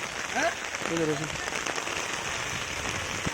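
Heavy rain pours steadily onto a paddy field during rice transplanting, a dense unbroken hiss, with a brief voice heard early on.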